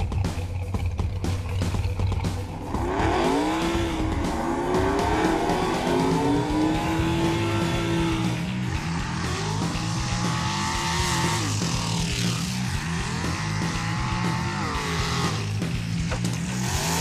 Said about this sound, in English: This dragster, it's got a big block Chevy in it, Power Glide, close to 700 horsepower